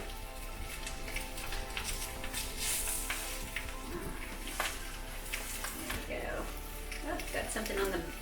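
Sweet potato flatbread sizzling in hot olive oil in a pan, a soft, continuous crackle that stays fairly quiet while a person talks over it.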